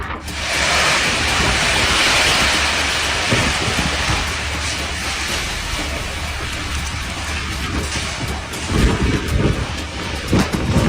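Heavy rain pours in Dubai during a fierce thunderstorm, a loud, steady broadband roar with gusty wind noise and low rumbling bursts toward the end.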